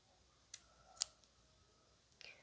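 Scissors cut crochet thread in a few quiet, crisp snips, close up and alone in a near-silent room.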